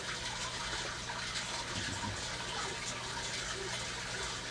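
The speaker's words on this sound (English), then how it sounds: "I'll take my time pouring the water and making sure I don't disrupt the shrimp" Water poured steadily from an old cup into a shrimp tank, a continuous close gush and trickle with no talk.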